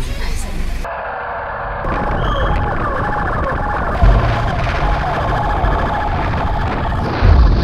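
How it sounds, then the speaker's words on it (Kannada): A loud ambulance siren wails steadily throughout, with voices and traffic noise beneath it. "ನಮ್ಮ ಜೊತೆ AKRSನ ಸೋನು ಆಂಬುಲೆನ್ಸ್ ಅವರು ಸಹ ಎಸ್ಕಾರ್ಟ್ ಕೊಡ್ತಾ ಇದ್ದಾರೆ."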